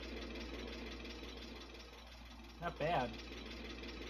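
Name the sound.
old tractor engine running, Farming Simulator 22 video game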